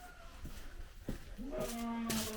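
A calf moos close by on a farm, a rising drawn-out bellow after a few soft thumps and rustles.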